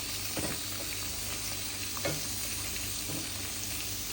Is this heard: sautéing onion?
yes